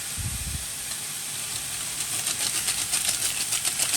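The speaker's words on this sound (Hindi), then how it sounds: "चिकन को हमें फास्ट गैस पे ही भूनना है, इसको स्लो नहीं करना है" Chicken fries on a high gas flame with a loud, continuous sizzling hiss that grows busier and crackly toward the end, heard close with no talking.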